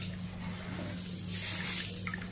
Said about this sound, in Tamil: இதையும் தண்ணி ஊற்றிட்டு நல்லா பிசைஞ்சு விட்டு நல்லா பிசைஞ்சு விட்டு நம்ம இதை கழுவணும்.